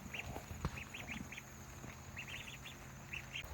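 Ducks on a small homestead, kept beside a newly rebuilt meat bird pen on a rainy day, quack in short repeated bursts at moderate distance over a steady background hiss.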